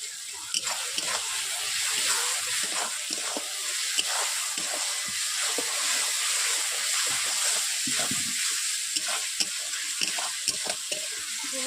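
Ginger garlic paste sautés in a pan for a jackfruit curry, giving a bright, constant sizzle with frequent scraping and tapping from stirring, while a voice talks at times.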